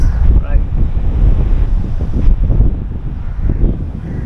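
Strong wind buffeting the microphone by the beach, a loud continuous roar with gusty rumbles and a faint wash of surf behind it.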